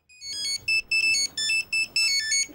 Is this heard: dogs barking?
no